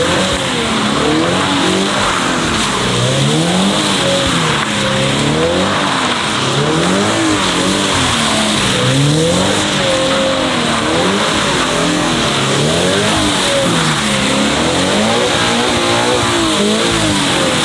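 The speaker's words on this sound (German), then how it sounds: "Wir werden nämlich jetzt hier einmal im Kreis querfahren." A loud, continuous Toyota GR86 engine with an aftermarket exhaust roars and revs in rising and falling waves, with tire squeal mixed in as the car drifts around in circles.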